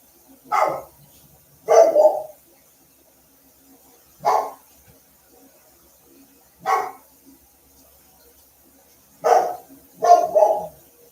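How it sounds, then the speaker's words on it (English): Dogs barking indoors, about six separate short bursts of single and double barks spaced a few seconds apart, loud and close with quiet gaps between. "And now they're going to start barking for no reason because why not?"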